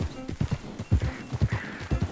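Horse in Red Dead Redemption 2 clip-clopping with steady, close hoofbeats, a whinny cutting in partway through the rhythmic trotting.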